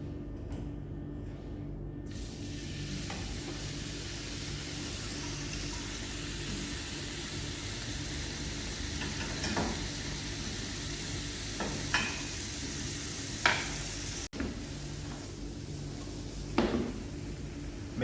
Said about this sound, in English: I'm going to saute my ham